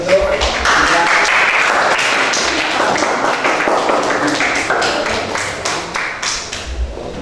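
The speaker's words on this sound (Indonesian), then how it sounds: "Kasih aplaus" A classroom audience claps after a teaching presentation, a dense, loud applause that holds steady for several seconds and then thins into scattered claps.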